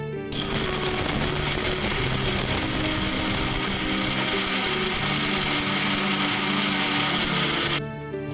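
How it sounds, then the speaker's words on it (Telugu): A kitchen mixer grinder runs loud and continuous for about eight seconds, grinding garlic with salt into a fine powder, with a harsh motor whine and rattling jar that stop abruptly at the end. "సో ఇలా మనం మిక్సీ పట్టుకోవాలి"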